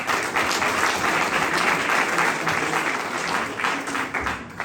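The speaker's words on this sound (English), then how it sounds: "So big applause for all of you." Audience applause at a Khalsa Aid office opening in Winnipeg, Canada: steady, dense clapping from a crowd that fills the room evenly throughout, with no voices standing out.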